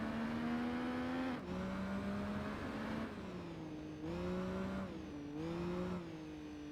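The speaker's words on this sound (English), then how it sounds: "it's a sport bike. We got a Triumph this time." A Triumph sport bike engine in the Tourist Trophy racing game at Laguna Seca: a sustained, moderately quiet engine tone that climbs in pitch, then drops sharply at each gear shift, repeating several times with no talking.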